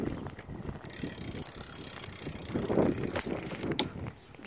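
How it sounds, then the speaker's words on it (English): Someone rides a small bike outdoors, with a steady whir of rolling and wind rush, a ticking freewheel ratchet, and bumps and clatter as the bike slows and is parked. "I am on my little bike"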